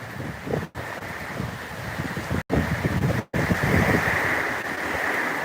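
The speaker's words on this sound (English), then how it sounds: "the wind is blowing the rain" Wind driving rain across an open lakeside area near a barn, a steady broadband rush with gusting surges, close and loud against the microphone, continuous throughout with no talking.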